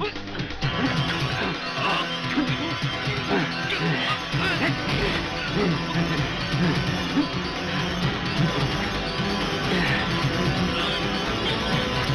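A dense, constant wash of crashing, thudding impacts and shouting voices from an action movie fight scene, loud and chaotic throughout with no pause.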